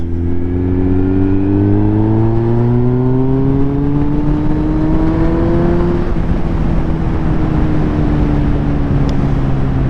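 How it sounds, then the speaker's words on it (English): A loud Kawasaki Z900 motorcycle engine drones and climbs in pitch as it revs, then holds a steady roar, close and continuous. "some people don't like loud motorbikes"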